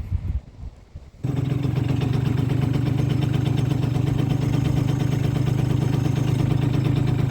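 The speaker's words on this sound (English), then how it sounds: "One can almost find the factory idle intoxicating for how smooth and low it could be." A modified Yamaha Zuma 50cc scooter, fitted with a Delta clutch on yellow springs and a BWS 100 belt, idles steadily with a low, even, pulsing putter. The engine catches abruptly after a second of quieter handling noise, then runs close and continuous.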